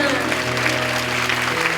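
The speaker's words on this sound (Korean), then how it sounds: "그 영광의 박수, 감사의 박수 주 앞에 올려드리겠습니다" A church congregation claps in praise during a worship service, a dense, continuous round of applause from many hands. A faint voice carries beneath it.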